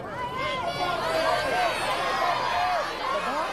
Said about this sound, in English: Now, the crowd is telling him what to do, as they always did.